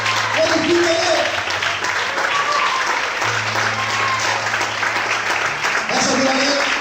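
A church congregation applauds steadily and loudly throughout, a dense wash of clapping with faint voices and a low sustained tone underneath.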